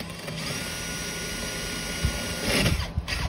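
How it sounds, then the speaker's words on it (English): A power drill fitted with a tile bit grinds steadily into hard porcelain tile, a continuous high whine and rasp that swells louder near the end, close up with no talking. "A tile bit drills porcelain tiles."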